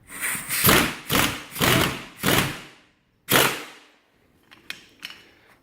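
Power gun driving the winch that retracts a tire carrier on a Pontiac Aztek or Buick Rendezvous, heard as about five loud close whirring bursts separated by short pauses, followed by a few fainter clicks.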